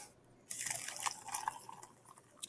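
Boiled water poured into a cup, a steady close splashing trickle that starts abruptly and runs on with small bright drips and fluctuations, faintly recorded with no talk.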